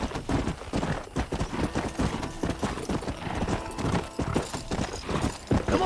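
A horse gallops in the Western video game Red Dead Redemption, with rapid, even hoofbeats pounding close and steady throughout.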